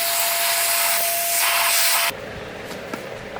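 A domestic vacuum cleaner fitted with a 3D-printed intake attachment roars with a steady, loud hissing airflow for about two seconds, then cuts off, leaving a quieter background with a few small clicks.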